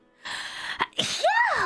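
A sneeze in the game VA-11 Hall-A: a quick inhaled gasp, then a sharp sneeze burst, close and loud, with a voice exclaiming just after it.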